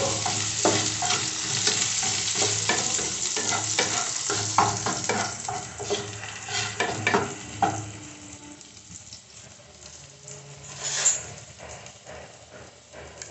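Three or four whole garlic cloves fry in hot oil for a Bengali bata fish curry, a loud continuous crackling sizzle with stirring scrapes that gradually quietens.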